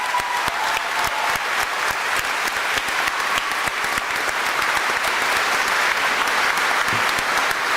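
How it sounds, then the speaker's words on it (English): Steady audience applause after a live performance fills the whole stretch, dense and even at close-to-moderate distance with no talking over it. "Let's give her another round of applause for that wonderful performance."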